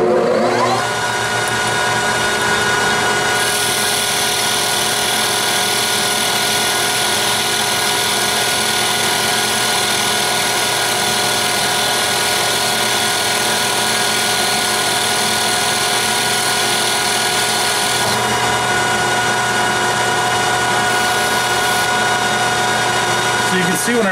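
A metal lathe takes 50-thou passes off a hydraulic steering bolt for a 1970 BMW project, giving a loud, steady machining whine and rumble throughout, shifting in tone partway as the cut changes.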